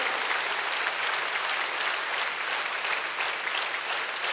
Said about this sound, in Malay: Boleh kita bagi satu tepukan gemuruh kepada dekan-dekan.